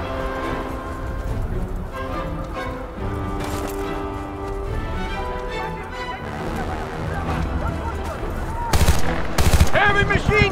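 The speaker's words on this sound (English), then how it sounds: "Heavy machine guns!" Heavy machine gun fire rattles in a Battlefield Bad Company 2 battle, with dense bursts over a busy wash of game music and combat noise. Louder, sharper shots break through near the end, and a voice shouts over the fighting.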